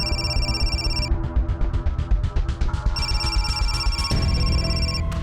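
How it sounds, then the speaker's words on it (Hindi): A phone rings in bursts of steady electronic tones, loud and close, over a dense layer of dramatic background music in a crime drama scene. "प्रकाश सर का फोन है।"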